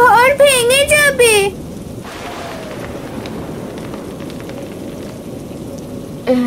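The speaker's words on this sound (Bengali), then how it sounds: "মা, আমার খুব ভয় করছে, খুব জোরে বাতাস বইছে, মনে হচ্ছে আমাদের ঘর ভেঙে যাবে।" A cartoon storm with strong wind and rain roars steadily and loudly after a short spoken line at the start, with a voice returning briefly at the end.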